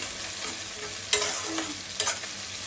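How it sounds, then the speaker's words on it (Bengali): Chopped onion, green chili and bay leaf fry in hot oil in a pan, a steady close sizzle broken by two sharp stirring scrapes. "এখন এই পেঁয়াজ মরিচটা হালকা ভেজে নেবো"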